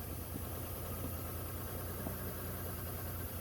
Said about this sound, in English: After many months of rebuilding this engine, will it finally start?